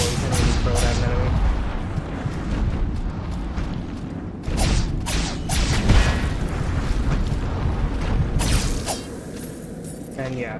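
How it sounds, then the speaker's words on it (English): Explosive dragon blast attack from the video game Salt and Sacrifice, a loud burst of booming, crackling detonations over continuous dense game noise, with several sharp impacts spread through the clip. "the dragon blast, the one that causes explosion when you throw it at an enemy"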